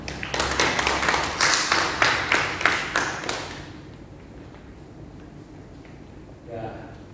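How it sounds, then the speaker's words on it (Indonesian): A church congregation claps in a steady rhythmic beat of about ten loud, evenly spaced claps over three seconds, then stops, leaving quiet room tone with a brief murmur near the end. "Beri tepuk tangan."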